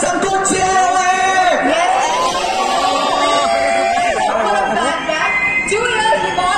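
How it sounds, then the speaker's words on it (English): A packed crowd at a college battle-of-the-bands event at LPU cheers loudly, with dense chatter, whoops and yells blending into a continuous roar. "Come on, give us some good cheer."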